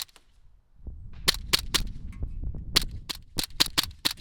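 An ASG B&T USW airsoft pistol fitted with a B&T tracer unit fires about nine sharp, close snapping shots, first in a quick group of three and then in a faster run, over faint outdoor background rustle.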